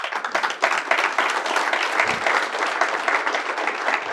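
Applause breaks out at a French New Year's greetings ceremony in a hall, many hands clapping in a fairly close, uneven patter that continues steadily.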